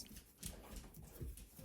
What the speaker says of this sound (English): You can probably hear my dogs eating in the background.